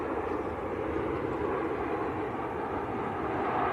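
Steady broadband roar of a Ryanair airliner arriving from Budapest at Manchester Airport, a continuous loud engine rumble with no break and no voices.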